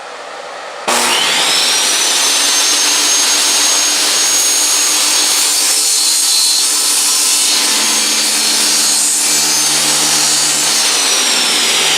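Power saw cutting through a 4x6 wood piece guided by a hand-built sled, a loud continuous whining cut that starts abruptly and holds steady to the end, with no voices.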